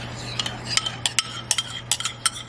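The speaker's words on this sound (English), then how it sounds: "All right, we're scrambling the eggs now. We're gonna scramble it with this spoon" Eggs are scrambled with a spoon in a kitchen pan, giving quick irregular scraping and clinking strokes of metal against the pan, close and fairly loud over a low steady hum.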